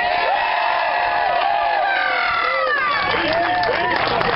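A crowd cheers, whoops and shouts for the band at a live show, a dense loud wash of voices with scattered yells and some clapping underneath.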